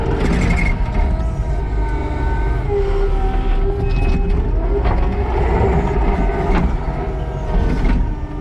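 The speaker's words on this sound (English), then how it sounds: "And the skid steer." A skid steer loader with a tilt bucket clears roots and wood on a work site: a loud, steady engine drone with clanking and rattling mechanical noise, no voices.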